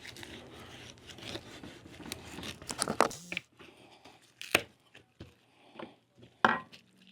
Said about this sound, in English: And then with the smaller knife, just chase that little edge.